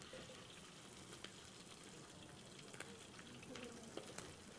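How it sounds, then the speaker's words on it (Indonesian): Dried shrimp (ebi) frying in a pan as the first step for sago noodles, giving a quiet, steady sizzle with occasional small pops and crackles and no talking. "Jadi kita tumis dulu ebi."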